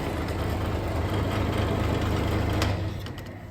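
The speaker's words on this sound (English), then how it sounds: "to use our spindle moulder, come back around this side, and we'll turn that on from here" The spindle moulder on a CM254/250/6 combination woodworking machine runs with a steady low motor hum and drone, fairly close and even, easing off slightly at the end, with no talk over it.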